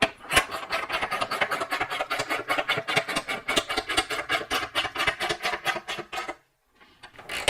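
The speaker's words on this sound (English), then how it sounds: "Snug it up with the ratchet." A ratchet clicks rapidly and steadily while tightening a die on a seat part, a dense run of close, even ratcheting clicks lasting about six seconds before stopping abruptly.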